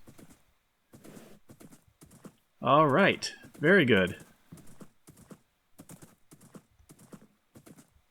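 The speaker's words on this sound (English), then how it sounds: "It's kind of cool going over the bridge on a horse." Soft, regular clip-clop of a horse's hooves crossing a bridge in a video game keeps an even rhythm throughout, while someone speaks briefly in the middle.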